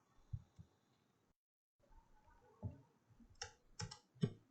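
A computer mouse clicks while a user works in DesignSpark Mechanical CAD software. Sharp, quiet clicks come singly and in a quick cluster near the end, with a brief silent gap partway through.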